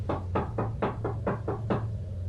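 Knocking on a door in a horror story, seven evenly spaced heavy knocks over a steady low hum, close and distinct, then silence.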